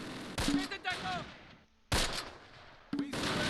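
Gunfire in the Close Combat video game, a World War II battle at Romagny in August 1944, with bursts of rapid rifle and machine-gun shots in three loud volleys separated by brief pauses, with faint background voices.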